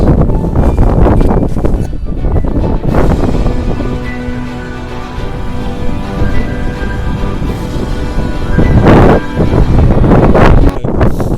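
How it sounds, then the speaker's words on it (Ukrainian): Strong gusts of winter mountain wind buffeting the microphone on a snowy hike, rumbling low and rising in bursts, loudest near the start and toward the end. "Тож нормальний вітерець."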